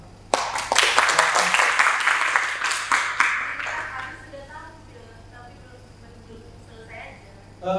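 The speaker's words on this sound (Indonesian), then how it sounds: "terakhir kelompok ketiga boleh beri tepuk tangan" Audience applause at a cultural ideas meeting in Aceh, Indonesia: a burst of crisp hand claps for about three seconds that quickly thins out and fades, followed by people talking quietly in the room.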